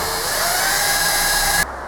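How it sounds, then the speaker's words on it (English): A hand-held power drill boring holes in a workshop, a steady high-pitched whine running continuously close by, then cutting off near the end. "I'm hand drilling these ones because I don't feel like taking the table off the drill press"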